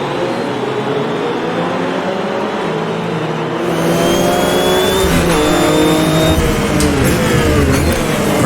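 Race car engine in the Automobilista 2 sim racing game revving hard and loud, pitch climbing and dropping through gear changes and a downshift, constant and close.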